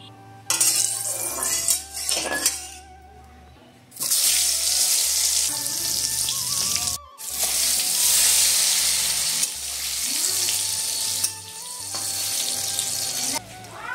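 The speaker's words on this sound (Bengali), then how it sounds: "এবারে এই বেগুনগুলো তেলের মধ্যে আগে ভেজে নেব।" Aubergine pieces coated in turmeric and salt frying in mustard oil in a kadai, a loud steady sizzle in long bursts with stirring, utensil clinks and brief pauses between.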